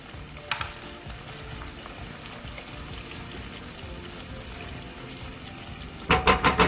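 Seasoning and better than bouillon fry in hot oil for a Haitian breakfast, a steady close sizzle with light stirring clicks, then a few sharp louder scrapes near the end.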